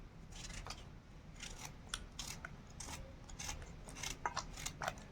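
Snake gourd is chopped into small pieces with a knife: quick, uneven runs of crisp cutting taps, quiet and near, clustering faster toward the end.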